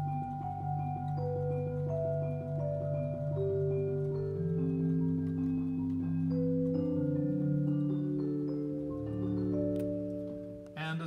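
A digital harp stop on an E.M. Skinner pipe organ plays a slow sequence of sustained plucked tones, close and moderately loud, with notes ringing and overlapping and no talking.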